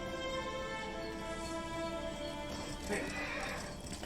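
Horse in the video game Ghost of Tsushima answering a whistle, with a whinny and clip-clop hooves over a steady game music and ambience bed while a person talks over it.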